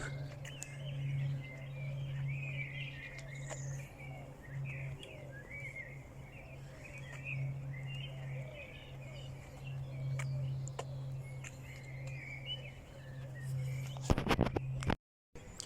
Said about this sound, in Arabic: أصوات العصافير بتاخد العقل.